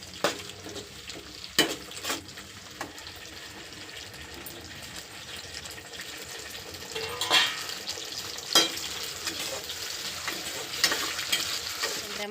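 Onions fry in a pan for a taro curry, giving a soft continuous sizzle punctuated by occasional clinks and scraping stirs, close and fairly quiet with no talking.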